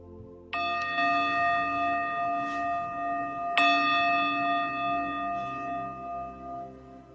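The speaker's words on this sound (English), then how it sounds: "Soon the bell will sound indicating the completion of today's practice." A meditation bell rings twice at the close of a guided mindfulness practice, each clear metallic strike blooming and then slowly decaying over several seconds in a quiet room.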